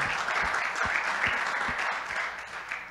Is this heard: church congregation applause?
yes